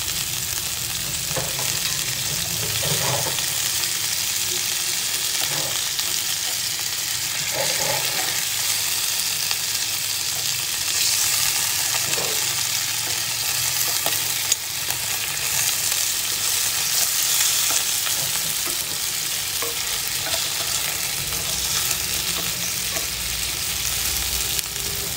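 Stuffed squid filled with meat frying in a pan of hot oil, a dense continuous sizzle with scattered sharp pops and spatters throughout, close and loud, with no talking.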